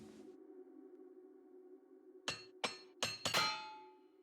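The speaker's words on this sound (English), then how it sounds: "I broke my hammer." In the video game The Elder Scrolls IV: Oblivion Remastered, a hammer breaks: a held tone cuts off, then four sharp metallic clinks ring out in quick succession, the last one shimmering.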